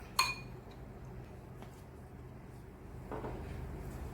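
A small spoon stirs coffee powder into a mixture for dalgona coffee, opening with one sharp metallic clink against the bowl, then quiet, soft scraping and a brief rustle near the end, close by and with no voices.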